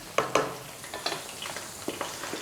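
Seasoned oil getting a quick stir in a pan while making a Chinese gravy paste: two sharp scraping strokes up front, then softer, irregular stirring scrapes with a faint sizzle underneath, close by and with no talking.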